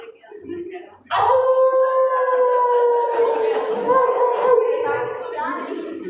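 A voice imitates a dog howling at night, a long drawn-out wavering howl that starts abruptly and holds loud and close for several seconds, preceded by brief murmured speech.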